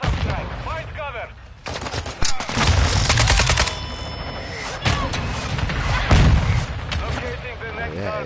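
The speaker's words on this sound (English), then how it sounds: "Hostiles launched a mortar strike." Video game mortar strike with heavy explosions and booming impacts in a battlefield scene, rapid bursts of gunfire-like blasts in clusters, loud and close, with speech faintly mixed in.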